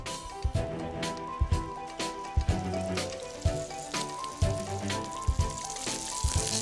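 Lamb kidneys sear in a hot oiled griddle pan, a steady close sizzle with sharp spitting crackles and pops bursting irregularly throughout.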